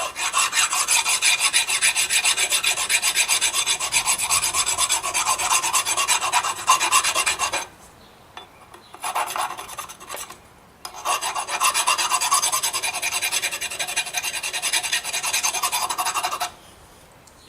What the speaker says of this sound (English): Just kind of file the keyway flat. Get any burrs off of it.